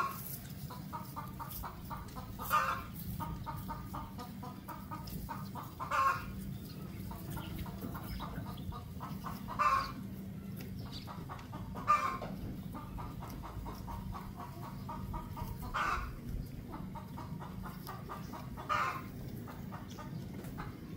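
Breeder hens cluck in repeated short bursts every few seconds, fairly near but soft, over a low background hum with no talk.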